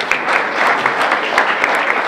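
Audience clapping at a 35th anniversary celebration of a Diakonie care home in Britz, Berlin, a steady dense round of applause from a hall crowd with individual claps standing out, loud and continuous.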